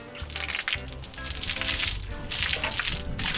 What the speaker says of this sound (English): So what I want to do is just pour this bucket of water right over top of